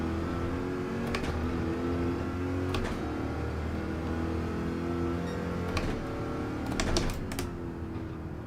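A Porsche race car drones steadily through a Group 3 daily race at the Nürburgring GP circuit in Gran Turismo 7, the engine note shifting slightly as it runs, with sharp keyboard-like clicks scattered over it and no voices.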